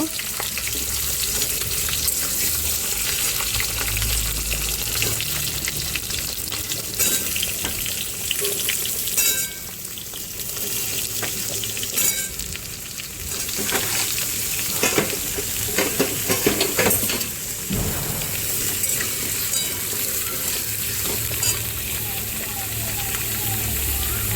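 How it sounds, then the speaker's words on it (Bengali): Ash gourd pieces fry and sizzle steadily in a pan while being stirred, with scraping and clattering bursts over the continuous close hiss throughout. "চাল কুমড়োটাও আমি একটু নেড়ে নেব।"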